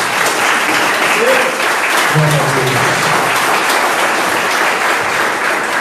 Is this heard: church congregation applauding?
yes